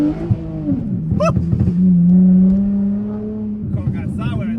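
A car engine revs and surges as it slides sideways around a corner on a wet road in the rain, the note rising and holding near and loud, with a person talking excitedly over it.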